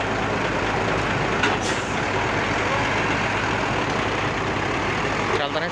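Heavy buses rumble and idle in a busy terminal at Purabaya Bungurasih, Surabaya, as a Restu Panda Surabaya–Malang coach pulls in to park. A dense, steady engine roar fills the clip with a brief hiss-like burst near the middle.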